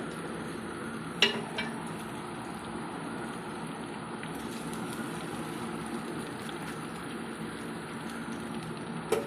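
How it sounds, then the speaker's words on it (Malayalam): Tomato goes into a pan for Kottayam-style fish curry, followed by a low steady sizzle and soft stirring, quiet and close, a couple of faint clicks, no voices. "ഇപ്പം ഞാൻ ദാ അതിലേക്ക് തക്കാളി ഇട്ട് കൊടുക്കുന്നുണ്ട്"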